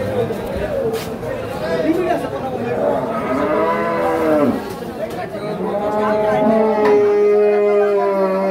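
A Friesian dairy cow at a cattle sale lets out long, loud moos, one after another, amid chattering voices and general crowd noise nearby.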